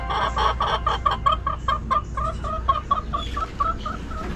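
Chickens cluck in a steady run of short, repeated calls, fairly close, over a constant low background hum.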